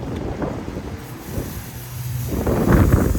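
Wind blows outdoors in a rural garden, a loud steady rush buffeting the microphone with rumbling gusts that swell toward the end, with no voices.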